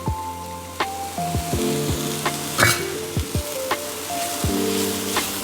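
Chili powder and coriander powder roast in a hot pan for a mutton saaru, making a soft continuous sizzle broken by repeated knocks of a utensil against the pan at irregular intervals, with no talk.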